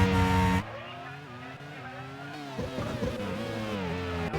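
A race car's tyres lock up under braking in a racing game, the engine note dropping sharply as the revs fall, then climbing and wavering again, with a brief squeal.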